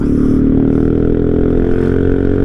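A motorcycle with a loud aftermarket exhaust idles loudly and steadily close by, its throaty exhaust rumble droning without pause.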